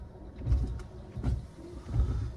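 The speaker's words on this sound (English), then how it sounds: "it'd be rude not to do a little wiper test" Windscreen wipers on a 2012 Toyota Yaris SR 1.3 sweep with the engine running, giving three soft, evenly spaced motor whirs and blade thumps, close and fairly quiet.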